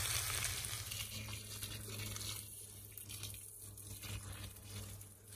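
Red onion and chile guaco frying in margarine give a steady, close sizzle with watery crackle that holds evenly throughout, with no one speaking.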